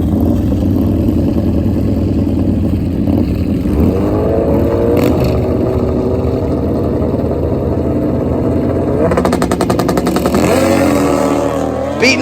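Drag racing motorcycles, including a GSXR 1400 and a V-twin, at a major Australian drag bike event: loud, continuous engine roar with rising revs and a sharp rapid-fire stutter as they accelerate, close and sustained throughout.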